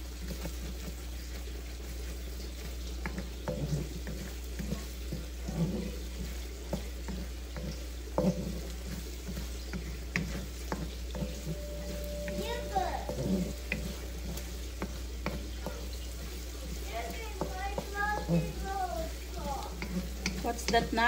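Garlic sautéing in a frying pan while buttered shrimp is prepared, a soft steady sizzle with occasional stirring clinks, with faint voices in the background.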